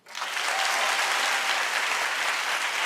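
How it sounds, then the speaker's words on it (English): Audience applause bursts in and holds steady, a dense wash of many hands clapping close and loud for the full stretch, with no talk over it. "But clap if you want to know more."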